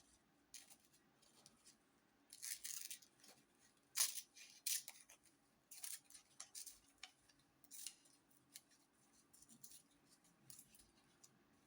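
Scissors cut paper close by with quiet bursts of snipping and rustling, some of them sharp, separated by near-silence, with no talk.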